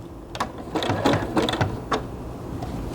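A sewing machine runs in short bursts while stitching a basket made from cotton piping cord, its needle clatter close and steady with brief pauses between runs.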